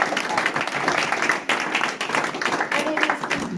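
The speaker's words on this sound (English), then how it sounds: "give a round of applause. Everybody have clap hands" An audience at a community meeting on rural traffic breaks into applause, a dense, even wash of many hands clapping that holds steady throughout, fairly loud and close.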